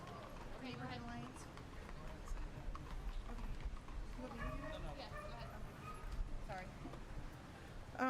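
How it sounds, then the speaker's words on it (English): Hooves of a horse pulling a carriage clip-clop steadily at a county bicentennial commissioners' meeting, heard under continuous talk from people nearby. "You see the horse-drawn carriage has arrived."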